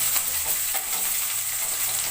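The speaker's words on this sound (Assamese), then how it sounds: "এইখিনি ভালদৰে ৰঙচুৱা হোৱালৈকে ভাজি থাকিব।" Medium-sized chopped onions fry in hot oil with cumin and garlic, a close, continuous bright sizzle with light stirring scrapes throughout.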